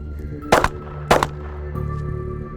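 A Glock pistol loaded with a Shield S15 magazine fires two loud, close, sharp shots about half a second apart, followed by quiet mechanical hum.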